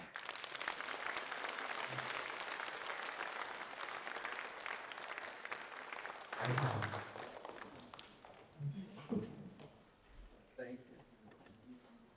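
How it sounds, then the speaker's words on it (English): An audience claps for panelists at the close of a forum. The clapping is sustained for about six seconds, then thins out into scattered claps, shuffling and voices. "please give them a warm round of applause"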